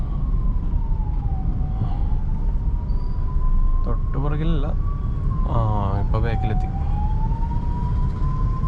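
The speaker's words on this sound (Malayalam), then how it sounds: "ബാക്കിൽ ഒരു ആംബുലൻസ് ഉണ്ട് കേട്ടോ" An ambulance siren wails, rising and falling steadily in the distance behind a taxi, over the car's engine rumble, while people talk briefly nearby.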